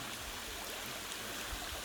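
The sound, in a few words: water flowing at Than Nam Sai waterfall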